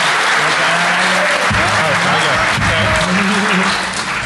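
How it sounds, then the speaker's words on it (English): Audience at a DEF CON hacker conference panel gives a sustained round of applause and cheers for a first-time speaker, loud and dense throughout with a few voices calling out over the clapping. "Round of applause, please."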